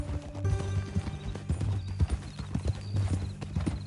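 Horse hooves clip-clop in Red Dead Redemption 2, a steady rhythmic stepping with a low tonal game music bed underneath, fairly close and moderately loud, with no talk.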